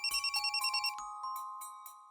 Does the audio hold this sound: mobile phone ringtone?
yes